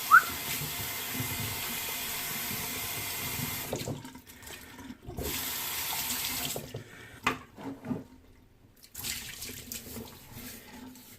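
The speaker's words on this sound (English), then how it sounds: "I'm just gonna rinse off the brush" Tap water runs into a sink as a shaving brush is rinsed, a steady splashing stream broken by brief pauses and trickles as the brush moves in and out of the flow.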